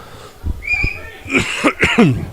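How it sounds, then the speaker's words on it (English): Someone clears their throat with a few rough, gravelly coughs and hacks in quick succession, loud and close, at a Slough Town vs Kettering Town football match. "Sorry, I'll just clear my throat there."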